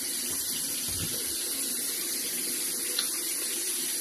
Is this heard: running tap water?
yes